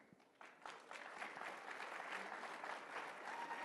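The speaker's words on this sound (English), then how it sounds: "I hate it when people clap for you." An audience applauds at a CPAC conservative panel event, a dense, steady clapping that swells after a quieter start and holds throughout the short clip.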